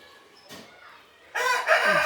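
A rooster crows loud and close, a strained, rising call in the last half-second after a softer cluck-like sound and a stretch of quiet. No talking is heard.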